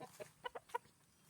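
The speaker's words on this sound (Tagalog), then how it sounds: "Ganyan ang mga manok ko." Farm chickens give a handful of short, separate clucks at close range, each a quick bright call with brief gaps between them over quiet background noise.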